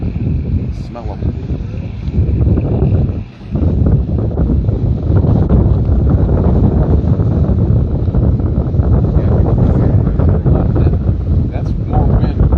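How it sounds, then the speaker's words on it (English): Strong wind buffets the microphone beside open water at a vintage boat race, a steady roaring rush that barely dips for a moment before surging on. "That's more wind up here than over there. You can kind of tell it's rough."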